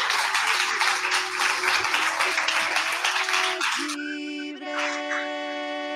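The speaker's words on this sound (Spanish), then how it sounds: "Así que un aplauso muy grande para ellos" An audience claps loudly and steadily for about four seconds, then cuts off as a sustained musical tone takes over.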